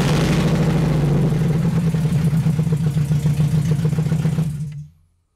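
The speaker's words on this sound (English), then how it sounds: "so I'm gonna start the car." A car engine runs close at a steady, throbbing idle, loud and even, then cuts off abruptly near the end, leaving silence.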